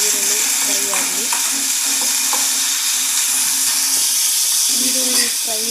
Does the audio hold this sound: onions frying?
yes